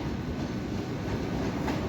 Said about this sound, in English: HST going back off down to Penzance from Plymouth